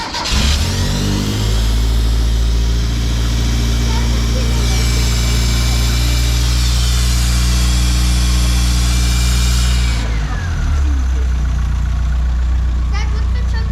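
A race car engine runs steadily with a deep, rumbling idle on choke, its pitch shifting slightly as it is held, with voices talking over it.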